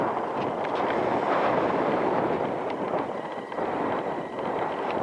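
Strong wind on an Alaska beach buffets the microphone in a constant rough roar, with gusts rising and falling over a few seconds and no voices.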